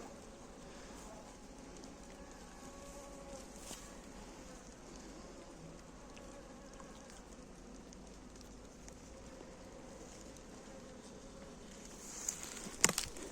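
Honey bees droning steadily around a traditional log hive stocked with karakovan honey, a continuous soft buzz close by, with a brief sharper rustle near the end.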